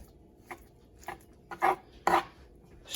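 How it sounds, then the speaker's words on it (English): A sharp knife cuts through deer back strap meat in a series of short, sharp strokes, spaced out and getting louder toward the end, with no voices. "Sharp knife really helps with this and getting into that meat and making it work."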